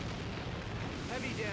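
Torpedo explosions in Warship Gunner 2, a brief deep rumbling blast with heavy low-end, rolling continuously at moderate loudness.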